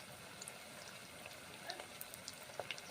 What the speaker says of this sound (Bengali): পেঁয়াজিগুলো একটা একটা করে ছেড়ে দিয়েছি গরম তেলের মধ্যে।